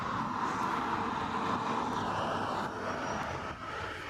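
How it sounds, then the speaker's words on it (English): A British Airways Airbus A320neo airliner arriving at Heathrow from Hanover, its engines a steady, broad roar close by that holds throughout with only a slight dip near the end. "A320 Neo, this is British Airways 979,"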